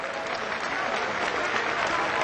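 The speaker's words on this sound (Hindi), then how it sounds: "तालियां" A crowd claps at a public ceremony in Jabalpur for the Atal Jyoti electricity campaign, a sustained, even wash of applause heard from a moderate distance without letup.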